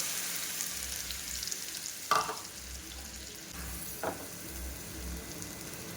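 Carrot paste fries softly in ghee in a pan, a faint, even sizzle broken by a couple of brief stirring knocks, heard alone without voices.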